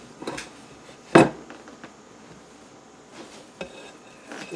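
A plate and pan are handled and flipped to turn out an air fryer veggie frittata, giving a single sharp clatter followed by a few lighter knocks, close by in a quiet kitchen.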